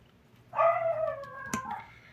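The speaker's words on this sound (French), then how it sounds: "Excusez-moi pour ma petite chienne" A small female dog close by lets out a drawn-out, wavering whine that breaks into a short yip, lasting just over a second against a quiet room background.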